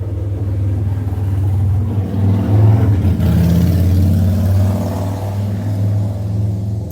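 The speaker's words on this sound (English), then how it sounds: "Let's let this motorcycle go by." A motorcycle drives past close by, its engine a loud low rumble that swells as it nears and eases off as it moves away, with no talking.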